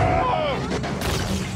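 Booming explosions and heavy blasts ring out amid game-like effects, with a broad crash of noise near the end.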